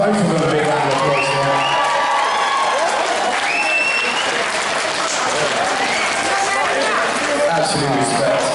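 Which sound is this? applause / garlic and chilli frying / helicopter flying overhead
applause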